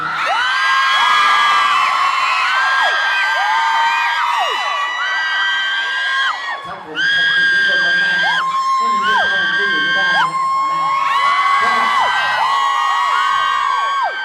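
A large crowd of fans at a mall concert screams continuously in high-pitched, shrill waves, loud and close, with shouts and cheers rising and falling throughout.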